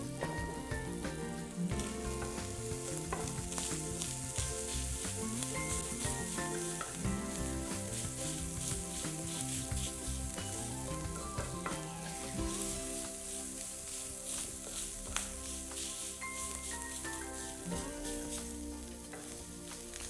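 Meat frying in a pan, seasoned with salt and garlic, a dense continuous sizzle and crackle that holds steady and close for the whole stretch, with no voices.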